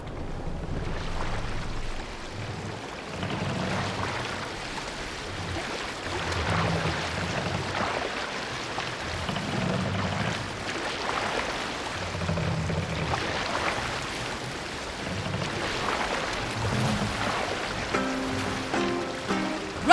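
Wind gusts and waves slosh around a Viking longship sailing in Assassin's Creed Valhalla, forming a steady rushing wash with rhythmic low swells of water and faint creaking, with a soft musical tone near the end.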